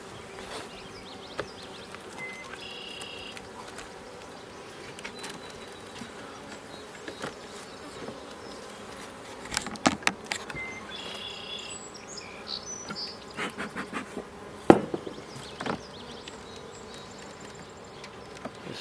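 Honey bees hum around open hive boxes while supers are added in July, a steady close drone of many wings with occasional louder passes and scattered clunks and taps of handling equipment.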